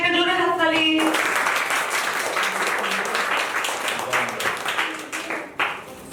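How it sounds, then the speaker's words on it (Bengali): At a charity clothing distribution in an ashram before the Puja festival, a crowd breaks into loud applause after a short spoken line, the clapping rippling on for several seconds before tapering off. "ক্যামেরা, ওর জন্য একটা জোরে হাততালি।"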